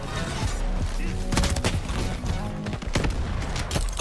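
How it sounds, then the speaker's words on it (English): Shotgun blasts in the video game Shatterline, several loud booming shots over busy game sound, with a voice speaking briefly between them. "Oh my god, the shotgun."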